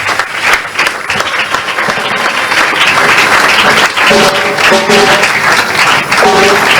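A church congregation at a prophet's ordination applauding loudly, dense sustained clapping mixed with cheers and raised voices, with a faint musical tone emerging toward the end.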